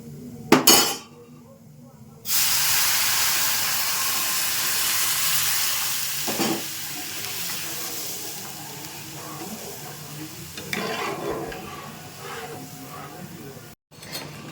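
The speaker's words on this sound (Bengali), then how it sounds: "সুজিটাকে একটু ভালো করে ভেজে নেব এটাকে আমি পাঁচ মিনিট মতো ভেজে নিয়েছি এবার আমি এখানে দুধ দিয়ে দিচ্ছি" Semolina frying in a pan as milk is poured in, giving a sudden loud steamy sizzle that hisses steadily and slowly fades, with a few utensil clinks before and during.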